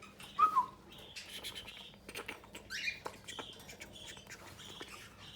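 Pet cockatiels and lovebirds in an aviary give short, scattered squawks and chirps, some sharp and close, others softer, over a faint steady background hum.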